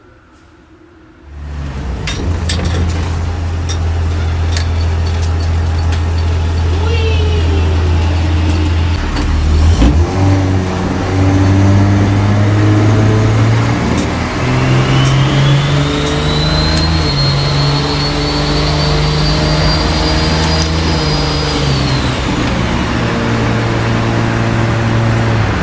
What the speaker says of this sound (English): The sound of the new turbo. It sounds so good.